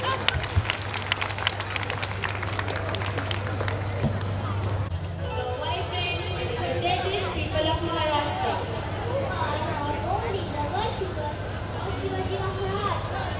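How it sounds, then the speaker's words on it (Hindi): At a school silver jubilee celebration, an audience applauds students with a burst of dense clapping in the first few seconds, then it gives way to a crowd murmur and a voice over a steady hum. "उन सभी छात्राओं के लिए भी आप तालियां बजाकर उनका अभिनंदन करें जोर से"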